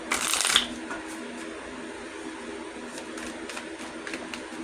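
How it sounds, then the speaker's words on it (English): A deck of tarot cards shuffled in a quick, crisp riffle burst at the start, followed by faint soft card handling and light rustling, close and alone. "Allow me to shuffle."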